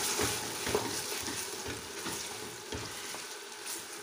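Meat frying and sizzling with onions in a pot for Turkish meat and white bean stew, a steady close sizzle broken by repeated stirring scrapes, with no voices.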